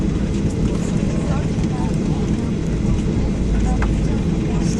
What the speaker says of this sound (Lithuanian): koks lėktuvas, dar vienas.